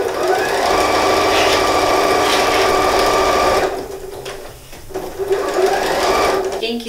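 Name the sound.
sewing machine stitching the sides of a bath mat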